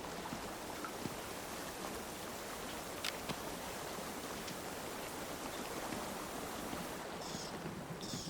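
A waterfall in Metal Gear Solid 3 makes a constant, fairly faint rush of falling water. The wash stays steady with a few small splashy ticks and no voices.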